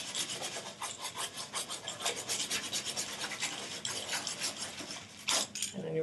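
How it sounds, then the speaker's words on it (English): A fine, harsh brush scrubs tooled leather on a saddle, producing a rapid rhythmic rasping of quick back-and-forth strokes, close and moderately loud, with a short pause near the end. "with a lot of tooling, I use even a finer, harsher brush"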